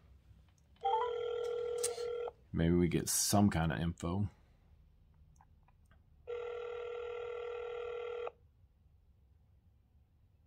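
A telephone call being placed, with two long stretches of a steady ringback tone separated by a short speech passage and faint clicks, set against quiet background hiss.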